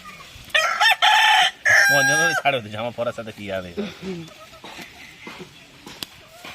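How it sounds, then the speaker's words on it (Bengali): Chickens squawk loudly and close by at an outdoor home cooking spot. A rooster's crow is followed by a run of rapid, uneven clucks that grow quieter toward the end. "আমাদের মুরগিগুলো চিল্লাচ্ছে"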